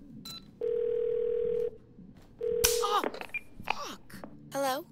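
Telephone call tone in Twelve Minutes, two flat steady electronic beeps, the first long and the second shorter, followed by clicks and voices talking close by.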